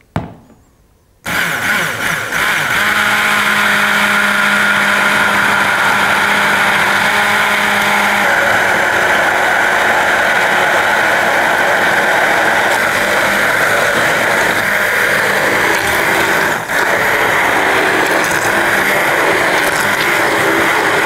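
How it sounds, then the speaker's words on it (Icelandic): An immersion blender whirs steadily and loudly in a kitchen while mixing béarnaise sauce, starting after a brief quiet moment and running continuously. "Og hitt tricksið að nota töfrasprottan eins og við köllum þetta í eldhúsinu."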